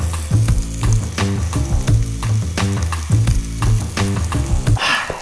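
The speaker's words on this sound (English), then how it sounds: "So I gotta sear and brown each side of the steak." A beef steak searing in a hot pan gives a loud, steady sizzle and crackle, with repeated knocking and scraping of utensils against the pan.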